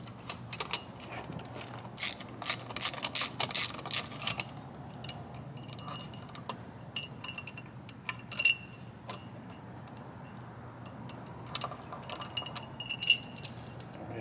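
Metallic ratcheting and clinking while steering wheel screws are unscrewed on a 1991 Cadillac Fleetwood Brougham, with a burst of clicks early on and then sparse, intermittent taps and jingles, close up with no talk.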